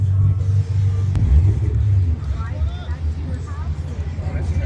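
A fast truck rolls past at an outdoor car show, its deep engine rumble steady and loud for several seconds while crowd chatter and voices murmur in the background.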